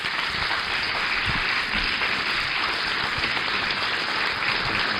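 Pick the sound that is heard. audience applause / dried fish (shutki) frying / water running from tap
audience applause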